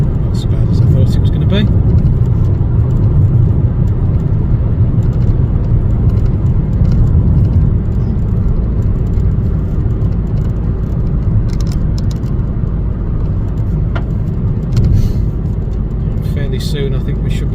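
A car driving along a pothole-strewn road in the Scottish Highlands heading north toward the Kyle of Lochalsh, heard from inside as a constant low engine and road rumble under ongoing talk.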